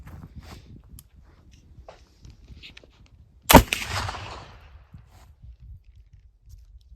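A single sharp gunshot from a firearm loaded with low sulfur ratio black powder, loud and close, with a short fading tail amid quiet outdoor background.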